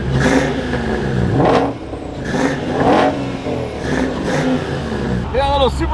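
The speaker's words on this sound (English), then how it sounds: "Yeah, a little supercharger whine" McLaren 570S with a downpipe installed revs repeatedly in bursts, its engine note rising and falling alongside a thin supercharger whine, with people talking over it.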